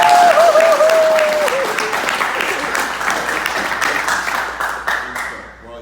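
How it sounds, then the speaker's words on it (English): A crowd breaks into loud, sustained applause that gradually fades out. "So give yourselves a round of applause."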